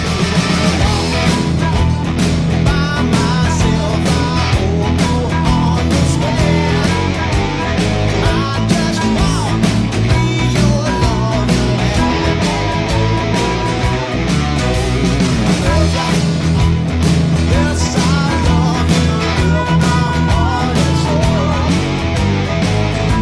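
Blues guitar plays a chorus over a typical blues progression in E, with dense, steady, loud playing that carries on without a break for over twenty seconds and no talking.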